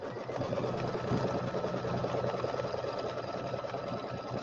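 An embroidery machine sewing a tack down line on a quilted St Patrick's Day settee pillow, a fast steady needle chatter with a mechanical whir, moderately quiet and unbroken, with no talk.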